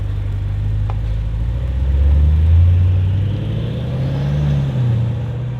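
A BMW X5 50i fitted with an inexpensive aftermarket valved exhaust rumbles close by, its deep engine note swelling slightly as revs rise and ease, a steady loud drone without speech.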